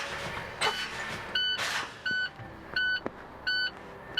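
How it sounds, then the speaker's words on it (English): A truck's low air pressure warning buzzer sounds in the cab, four evenly spaced electronic beeps, fairly close and clear over a quiet hiss of air and faint clicks. "My low air warning and buzzer came on before 55 psi."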